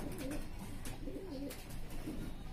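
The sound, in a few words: pigeon cooing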